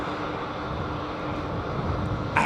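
Boeing 767 jet engines arriving at Heathrow Airport, a steady broadband roar with a faint whine, moderately distant and continuous throughout, no talking.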